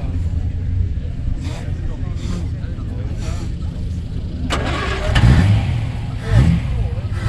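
Classic 1960s Ford Zephyr with a 2.5-litre engine pulling away at an outdoor classic car show, a steady engine hum with a couple of louder surges near the end, amid crowd chatter.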